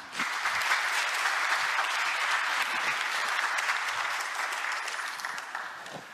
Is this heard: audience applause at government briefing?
yes